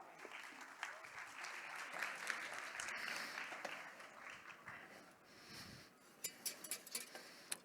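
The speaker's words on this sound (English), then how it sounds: "a big round of applause for Chef Christophe Devoille." A crowd applauds steadily for several seconds, the clapping thinning out into a few scattered claps at the end.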